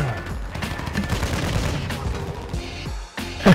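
Rapid bursts of automatic gunfire from Call of Duty Warzone (Modern Warfare II battle royale on Vondel), crackling shots in quick clusters over a steady rumble, ending with one louder, sharper shot.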